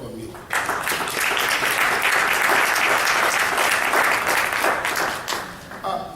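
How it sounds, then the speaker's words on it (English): Applause from an audience at a Nigerian entrepreneurship program, a loud dense burst of clapping that starts abruptly, holds steady for several seconds, then tapers off near the end. "Please clap hands for them for me."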